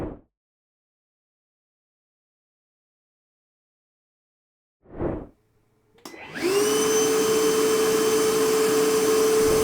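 Milwaukee M18 VC2-0 cordless job-site vacuum with a 320-watt motor switches on after a couple of brief knocks, then runs loud and steady with a high motor whine.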